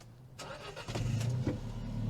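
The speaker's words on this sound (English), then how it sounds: "Bring that sport exhaust to life." An Alfa Romeo 4C Spider with a sport exhaust starts up: the starter whirs, then the engine catches with a loud, close bark and settles into a deep, steady idle, with no voices.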